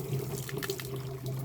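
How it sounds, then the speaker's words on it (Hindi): Water trickles steadily from a tap left slightly open, a soft continuous flow over a low background hum, close and alone without speech. "बस इतना जो है यहाँ से पानी आता रहे।"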